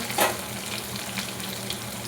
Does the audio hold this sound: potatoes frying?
yes